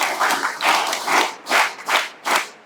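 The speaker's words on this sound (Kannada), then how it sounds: "ಒಂದ್ ನಿಮಿಷ ನೀವು ಇವರಿಗೆ ಎದ್ದು ನಿಂತಾಗ ಚಪ್ಪಾಳೆ ಕೊಟ್ರೆ ಇಲ್ವಾ?" An audience at a Shri Durga Parameshwari temple children's committee inauguration event bursts into clapping, rising and falling in several uneven waves of applause, close and lively.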